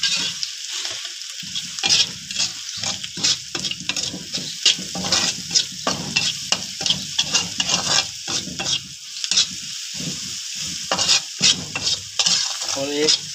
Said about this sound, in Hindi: मसाला भून के बनाते हैं, इससे बहुत अच्छा टेस्ट आता है।